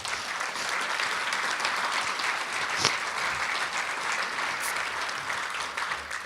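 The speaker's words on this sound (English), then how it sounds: "let's give them a round of applause for everything they've done to pull this whole thing together" Sustained applause from a large audience at a 25-year service tribute, dense steady clapping that stays even in loudness throughout.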